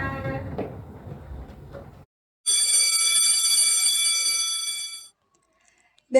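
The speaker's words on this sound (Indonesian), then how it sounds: "Bel pelajaran pun berbunyi, menandakan berakhirnya mata pelajaran bahasa Indonesia." A school bell rings steadily for about two and a half seconds to mark the end of an Indonesian-language lesson, loud and continuous with a bright electric tone, after a stretch of classroom voices and a short silence.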